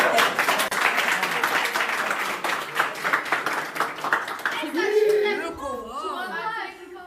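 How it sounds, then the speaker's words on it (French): Applause and clapping from a reality-show villa group, a dense patter of hands for the first four and a half seconds, then fading as excited voices and laughter take over. "Applaudissements."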